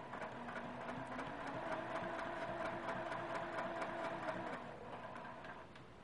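Sewing machine stitching quilt binding, a steady rapid mechanical chatter close by that runs for several seconds before slowing toward a stop.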